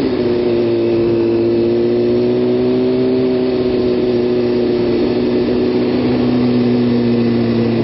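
Honda CBR motorcycle engine holding a steady mid-pitched drone with slight pitch wavering on a twisty stretch of Mulholland Highway, loud and continuous with no talk.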